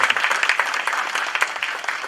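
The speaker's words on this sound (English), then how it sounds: "So I want you all to give them a round of applause." A lecture-hall audience at an annual lecture claps in a steady round of applause, a close, even patter of many hands with slight rises and dips throughout.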